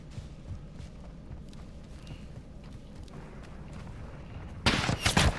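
Sniper gunfire in Call of Duty: Modern Warfare II suddenly breaks loud and sharp near the end of a quiet, low ambient stretch, with a couple of cracking reports close together.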